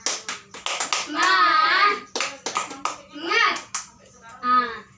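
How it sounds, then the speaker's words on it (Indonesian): A fifth-grade class performs a rhythmic clapping cheer in a classroom, sharp claps landing in quick patterned bursts while children's voices chant along between them. "Tepuk semangat."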